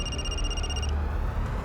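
A telephone rings with a steady electronic trill that stops partway through, over a low background hum in a home setting.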